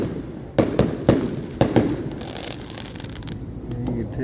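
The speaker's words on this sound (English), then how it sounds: "Yeah, but Malachi, watching the fireworks?" Fourth of July fireworks going off in a quick cluster of sharp booms and pops, then a crackling fizzle as the burst fades, heard outdoors with little talk.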